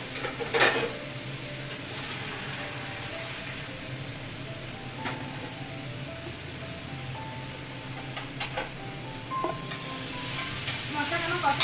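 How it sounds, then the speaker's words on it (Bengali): Spice masala sautéed and stirred in a hot pan, a steady sizzle and fry running throughout with occasional utensil scrapes and clinks, fairly close and unbroken. "এবার এটা ভালো করে কষাতে হবে।"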